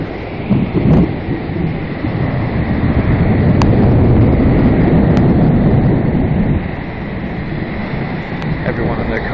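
A deep, continuous rumble of thunder rolls under steady rain, with a few sharp clicks over the noise.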